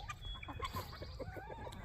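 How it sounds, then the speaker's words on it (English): Chickens cluck and murmur in a steady, overlapping stream in a homestead farmyard with ducks and guinea birds, fairly close and moderately loud, with no talking. "The chickies and the duckies and the guinea birds,"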